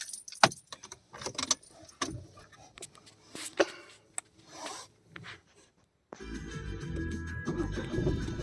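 Keys for a 2021 Tata Tiago facelift jangle in a hand, giving close, bright metallic clinks and rattles in irregular bursts, followed by a steadier low rumble like a car cabin or engine starting.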